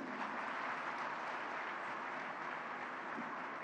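An audience at a ceremony claps in a dense, steady patter of applause that sounds fairly distant and soft, sustained evenly for a few seconds without pause.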